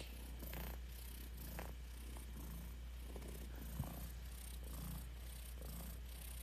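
A cat purrs steadily and close, a continuous low rumbling drone lasting throughout, with faint rustles and one small bump over it.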